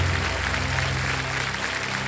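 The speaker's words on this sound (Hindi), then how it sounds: "तालियां बज जाए।" Steady studio audience applause on a TV quiz show, a continuous wash of clapping that holds at an even level throughout with no voices standing out.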